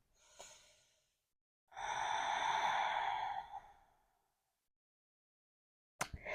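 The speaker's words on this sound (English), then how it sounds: "Take a couple of breaths here." Deep exhale during a yoga pose, a long, steady breath out lasting about two seconds after a softer earlier breath, close and fairly loud, followed by silence and a brief sharp sound at the end.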